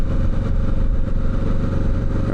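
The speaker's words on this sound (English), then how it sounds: "And I know I'm riding in fourth gear at 30 miles per hour." 2025 Kawasaki Ninja 650 motorcycle engine while riding in fourth gear at about 30 mph, a loud, steady, rumbling drone heard close up from the rider's position, with wind noise and no talk.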